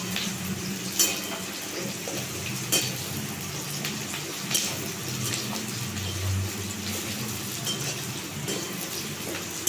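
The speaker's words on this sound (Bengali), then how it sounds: "তাই আমার মা একটু খুন্তিটা নাড়িয়ে দিচ্ছে দিয়ে দিয়ে" Capsicum and chopped onion frying in a pan, stirred with a spatula: a steady broadband sizzle with a few sharper scrapes of the utensil against the pan, close and continuous with no talking.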